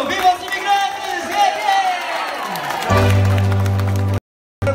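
A concert crowd at a live Portuguese music show roars and cheers for about three seconds, loud and dense, before giving way to a steady held tone and then abrupt silence.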